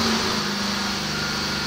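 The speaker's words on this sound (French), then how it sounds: "on va laisser tourner un peu le moteur" A car engine idles steadily after a cold-start repair and road test, a continuous even hum with a faint high whine, close and moderately loud with no voices.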